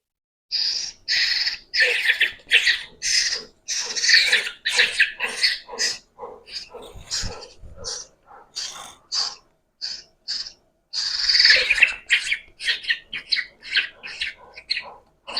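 A baby bird, species unknown, squawks insistently while hand-fed a flour paste indoors, giving loud, rapid, repeated high-pitched chirping calls in bursts with brief pauses throughout.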